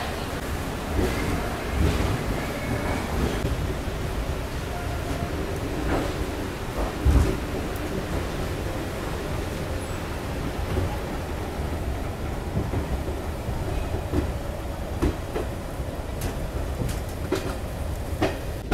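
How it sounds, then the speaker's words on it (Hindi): The Garib Rath Express pulls out of LTT Mumbai station, heard from inside the coach as a continuous rumbling roll with occasional clanks and knocks and no talk. "अपनी गरीब रथ एक्सप्रेस निकल चुकी है LTT मुंबई रेलवे स्टेशन से"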